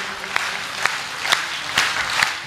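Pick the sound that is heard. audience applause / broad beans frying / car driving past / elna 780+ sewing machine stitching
audience applause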